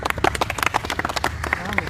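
A small group claps for an exam topper, a quick run of scattered, uneven hand claps lasting about two seconds at moderate distance.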